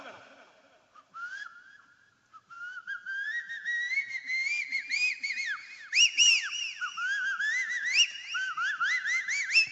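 Someone whistles an imitation of an Asian koel's dawn call, repeating rising, swooping notes that grow louder and quicker, alone without talk.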